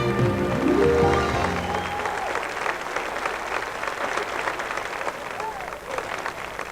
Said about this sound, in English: bringing a well-deserved burst of applause and admiration from the crowd